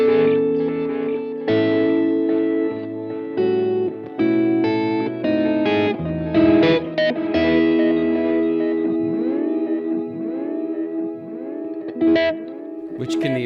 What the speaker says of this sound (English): you get this nice shimmer over the top of what you're playing